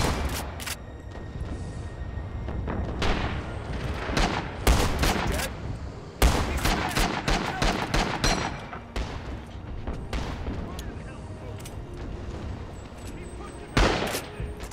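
Trench shotgun fire and other gunfire from the World War I shooter Rising Storm: loud, sharp blasts come irregularly, some in quick clusters, over a constant noisy battlefield din.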